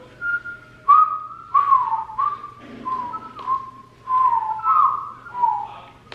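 A person whistles a tune in a clear, steady run of sustained notes that slide between pitches, close and fairly loud, with a low hum underneath and no talking.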